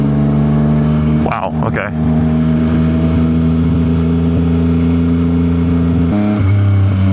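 A Yamaha XSR900 motorcycle rides along with a steady engine drone, then revs up sharply in two quick bursts early on and again near the end, recorded close from the rider's position, with a brief exclamation from the rider.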